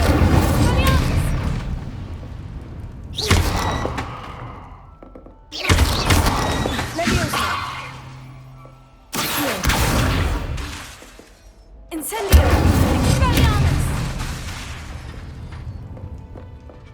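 Incendio fire spells and Expelliarmus disarming spells cast in Hogwarts Legacy, heard as about five separate loud blasts with booming, crackling bursts, each fading away before the next, and a voice present among them.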